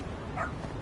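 A single short bark from a dog in the video game Lost Judgment, brief and fairly clear over a low game background hum.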